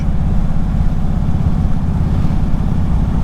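A 2022 Indian Super Chief Limited motorcycle cruises with a steady, loud, low engine rumble and throbbing exhaust, continuous throughout with no talking; individual bump impacts are not distinct.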